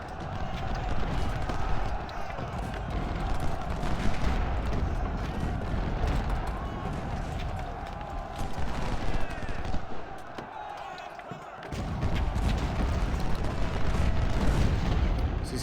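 Cannon and rifle fire rumble through a Civil War battle in the strategy game Ultimate General: Civil War, with 24-pounder guns in action. Dense, continuous booming and crackling stays loud throughout, dipping briefly near the end before surging back.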